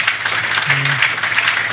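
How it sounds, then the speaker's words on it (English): An audience at a banquet venue event gives a brief round of applause, a dense wash of clapping with a voice briefly audible underneath. "I think that deserves a round of applause."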